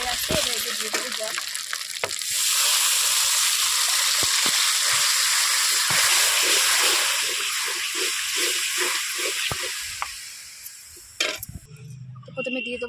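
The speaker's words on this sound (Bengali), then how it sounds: "এবার এতে দিয়ে দেবো জল।" Frying egg curry spices in a pan hiss loudly as water is poured in, the sizzle swelling into a broad steamy rush, then easing, with spoon scrapes and stirring taps throughout and a brief voice near the end.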